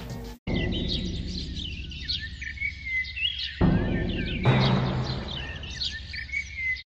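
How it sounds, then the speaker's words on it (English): Birds tweet and chirp continuously in a game soundtrack, layered over a low rumbling bed, with a brief drop-out near the middle before the chorus swells again. "draws us away from the symphony of birds tweeting and chorus of water droplets"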